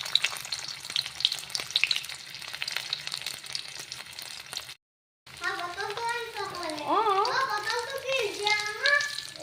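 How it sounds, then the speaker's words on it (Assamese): A few pieces of potato fry in hot mustard oil with a steady, close crackling sizzle. After a short gap, a voice talks over the continuing fry. "এয়া মিঠাতেলখিনি দি লৈ প্ৰথমতে মই আলু দুপিচ অকণমান এনেকৈ ভাজি ল'ম"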